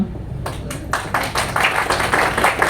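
Audience clapping at a spiritual talk, starting with a few scattered claps and building into dense, loud applause close by, with no speech.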